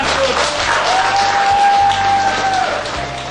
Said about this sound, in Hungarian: egy bíztató tapsot a nyitótánctól